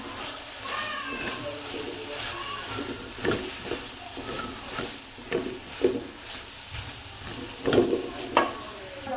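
Capsicum and cabbage stir-fried in a pan with onion, a close, steady sizzle broken by scraping stirs and louder clattering tosses through the stretch.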